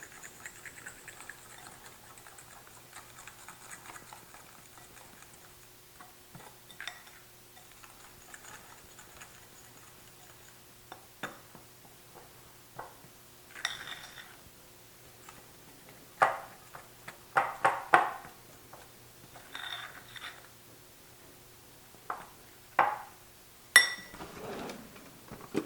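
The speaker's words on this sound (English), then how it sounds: "I'll use a fork and mix it" Ricotta cookie dough being mixed with a fork in a bowl, giving soft intermittent scraping and clinking taps against the bowl that grow more frequent and louder toward the end, with no talk.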